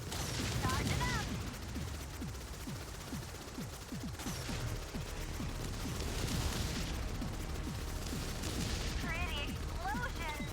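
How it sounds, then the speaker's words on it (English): Dense combat in the video game Subverse with rapid bursts of gunfire and booming explosions throughout, loud and continuous, with sharp electronic effects rising above the din. "Pretty explosions."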